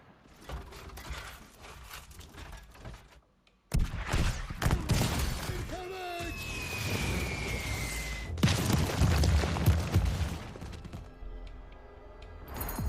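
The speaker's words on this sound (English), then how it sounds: "Oh god, here comes the artillery." An artillery bombardment in the video game War Hospital rumbles with heavy booms and mechanical clanking after a brief silence, a sustained loud barrage carrying on over several seconds with a whistling streak midway.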